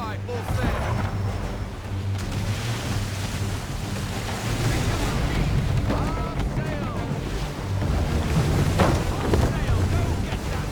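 A sailing ship at sea in Assassin's Creed III, with a dense, constant roar of wind and rushing waves against the hull that swells slightly at moments, loud and continuous, with no talk.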